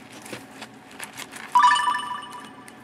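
A phone's text message notification chimes once as a short, bright electronic tone, rising clearly above quiet handling noise.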